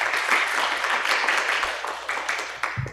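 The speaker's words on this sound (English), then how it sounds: "give last round of applause for all the speakers and also the moderator for today" Crowd applause at an international seminar on Palestine, a dense, steady wash of clapping from an audience that fades slightly toward the end.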